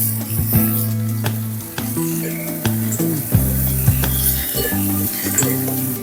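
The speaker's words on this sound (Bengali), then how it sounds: "আলু কিছুক্ষণ নাড়াচাড়া করে নেওয়ার পর দিয়ে দেবো ঝিঙে।" Ridge gourd and potatoes sizzle in a pan as a spatula stirs and scrapes them, steady frying hiss under repeated metallic clinks and scrapes, close and fairly loud.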